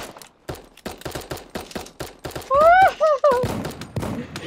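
Rapid cartoonish gunfire bursts from a 2D Fortnite-style video game, a string of quick shots with a louder swooping effect near the middle, mixed with voices talking over the action.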